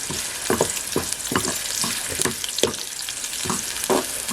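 Onions and curry leaves fry in a pan over a wood-fired clay stove while cooking a dry Bombay duck masala, giving a steady close sizzle with regular bursts of stirring scrapes about every half second.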